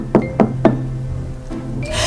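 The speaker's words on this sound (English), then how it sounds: "Knock, knock." Three sharp knocks on a wooden door land in quick succession, loud and close, followed by a quiet pause and a brief fainter rustle at the end.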